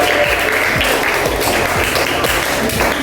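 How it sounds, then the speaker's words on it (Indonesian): Dense, steady applause from a group of students clapping together in a classroom, loud and close, filling the whole moment without a break. "Tepuk tangan untuk kelompok Raja Wali"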